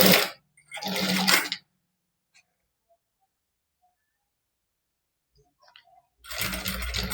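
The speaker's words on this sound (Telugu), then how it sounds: "ఈ విధంగా టాప్ స్టిచ్ వేసేయాలి" A sewing machine running short bursts of top stitching on a princess-cut back panel, two quick whirring runs at the start, a long quiet pause with faint handling, then stitching resumes near the end.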